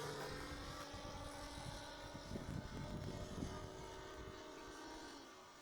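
An Aeromaster model biplane with a Saito 100 four-stroke engine and a single-blade propeller flies at half throttle on a foggy day, its engine buzzing faint and distant with a steady drone.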